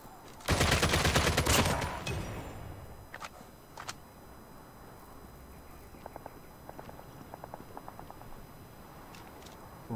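Gunfire in the mobile game PUBG Mobile, with a loud burst of rapid shots at the start followed by a quieter stretch of scattered distant single shots and small clicks.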